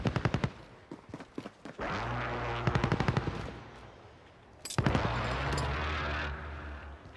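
Cold War–era guns fire in Call of Duty: quick bursts of automatic shots, sharp and loud up close, with sustained roaring stretches of fire between the staccato volleys.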